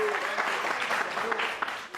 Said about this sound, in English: Let them clap you.